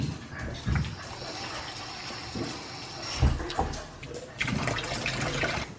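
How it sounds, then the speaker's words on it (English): Soaking water poured off overnight-soaked cashews, then the nuts rinsed under running water, a steady close splashing and trickling stream with a few louder gushes. "Now I'm just going to pour the water out and rinse them."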